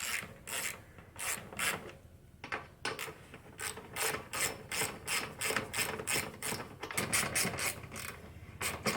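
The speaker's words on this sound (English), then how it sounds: "So I'm just removing these 5/16 bolts." A ratchet wrench backs out 5/16 bolts from the casing of a Predator 8,700 watt generator, giving a steady run of quick, close clicking bursts with brief pauses between strokes.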